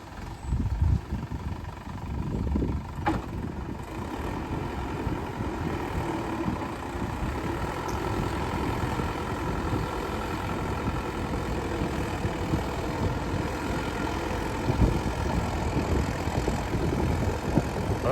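A tractor engine drones steadily and close while pulling a levelling plough across a muddy field, a continuous low rumble with no voices.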